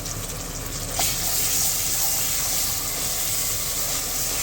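Ground masala paste goes into a pan of softened onions for a prawn rice gravy and sizzles steadily, a loud, close, continuous frying hiss with a slight surge as the paste lands.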